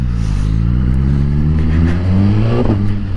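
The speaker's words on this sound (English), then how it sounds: "God, you hear that exhaust popping." A Suzuki GSX-R1000R motorcycle engine rumbles up close as it eases off, with a few sharp exhaust pops crackling near the end.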